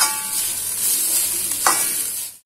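Bitter gourd sautéing with chili powder in a pan gives a steady, close sizzle, with a spoon scraping and stirring through it and a brief louder clatter near the end.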